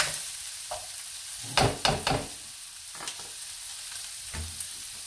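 Green mango and dried fish stir-fried in a pan: a soft background sizzle broken by several sharp scraping stirs in quick succession, then occasional lighter clinks, with no voices.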